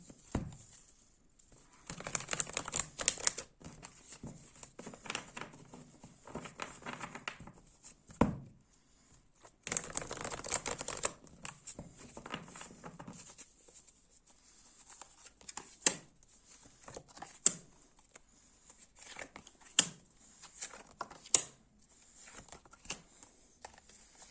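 Tarot cards are handled and laid out on a surface in a quiet room, soft faint rustles and scattered light taps and slaps coming in irregular bursts with pauses between.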